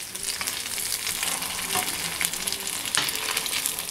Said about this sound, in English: Now you can see that I'm frying the balls.